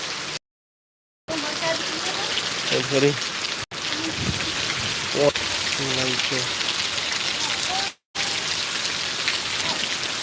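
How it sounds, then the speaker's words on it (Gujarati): Heavy rain pours steadily on surfaces in a dense, hissing wash during a Gujarat downpour, broken by a few abrupt cuts, while people talk now and then. "પણ વરસાદ આવ્યો હમણાં ફરી"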